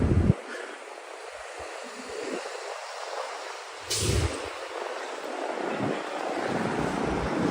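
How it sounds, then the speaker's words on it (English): Gusty wind blowing along Wall Street in Manhattan on a December day, a steady broadband rush with a stronger buffet partway through and low rumbling gusts hitting the microphone throughout. "A little bit of a wind."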